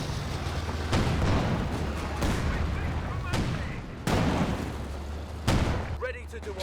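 Mortar pit firing artillery in the Company of Heroes 2 strategy game: several heavy booming launches and blasts spaced a second or more apart over steady battle noise, with a voice talking underneath throughout.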